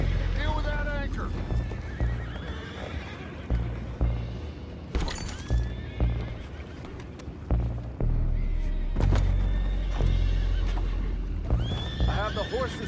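Horses in the video game Red Dead Redemption 2 whinny and snort repeatedly amid heavy clip-clopping hooves and occasional thuds, a busy, close scene with characters talking over it.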